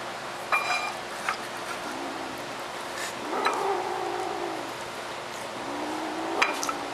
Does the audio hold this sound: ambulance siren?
no